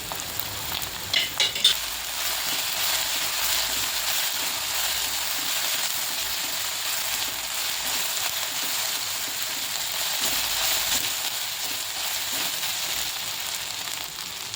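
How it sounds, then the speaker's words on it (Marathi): Finely chopped onion sautés in hot oil for a drumstick and dried shrimp mixed bhaji, with a few utensil knocks at the start followed by a long, steady, close sizzle with no talking. "तेल तापल्यावर त्यात एक छोटा कांदा बारीक चिरून घेतलाय, तो परतून घेते।"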